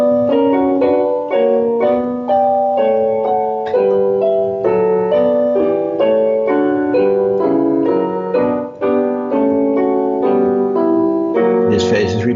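Corelli-style tonal music from a student harmony exercise, a steady sequence of sustained chords and moving melodic lines on a keyboard-like instrument, played loud and clear without talk.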